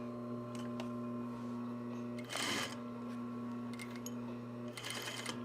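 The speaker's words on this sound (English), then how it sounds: "And then I'm going to sew along one of the edges." A sewing machine stitches along the edge of a fabric shoulder bag, a low steady motor hum with a couple of brief louder bursts of rattling needle action, heard close with no voices.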